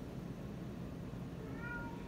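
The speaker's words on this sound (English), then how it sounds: "Hey, shut up, cat." A house cat meowing faintly in a quiet room, with a short drawn-out call near the end over low steady background hiss.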